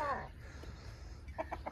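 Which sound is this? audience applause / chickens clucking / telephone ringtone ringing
chickens clucking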